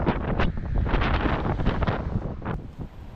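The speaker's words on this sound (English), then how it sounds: "the wind is coming in huge gusts." Strong cold wind gusting hard across an exposed microphone on a bike tour through Slovenia, a continuous loud roar with surging blasts and no speech.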